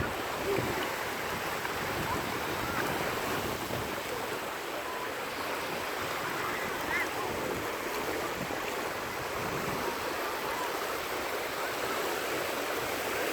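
A steady, soft wash of water noise, like waves on a shore, continues evenly without any talking.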